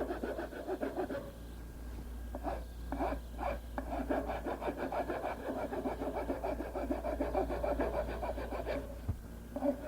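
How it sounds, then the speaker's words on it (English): Rasping strokes of a fine wood file working a turned furniture part, a steady run of short scraping pulls close by with a low hum underneath and no voices. "A little finer file."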